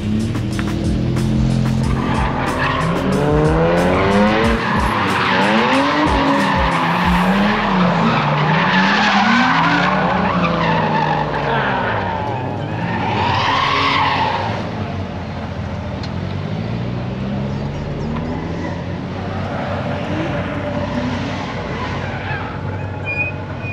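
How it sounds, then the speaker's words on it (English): Cars drifting at night: tires squeal and skid continuously as engines rev hard, long wavering screeches rising and falling for the whole stretch, loud and close. "Young Will had by far the best night of drifting."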